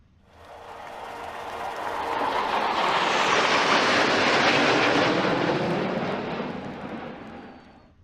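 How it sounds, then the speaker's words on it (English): A fixed-wing aircraft flyover at Bristol before a September 2023 NASCAR race swells from a distant rumble into a loud, broad roar, peaks midway, then slowly fades as it passes. "we got the flyover and the anthem out of the way"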